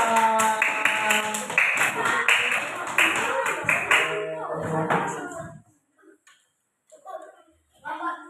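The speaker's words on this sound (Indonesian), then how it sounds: "Tepuk tangan untuk kelompok 3." A classroom group claps for a student team's presentation, rhythmic claps mixed with voices and tonal sound for several seconds, then it drops to near silence with faint scattered noises.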